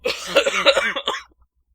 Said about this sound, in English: I actually have a cough now